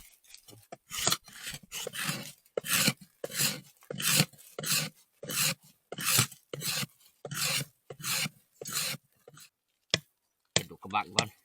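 Rhythmic hand scraping of an object, a dozen or so loud rasping strokes in steady succession, close by, with short gaps between them and a longer pause near the end.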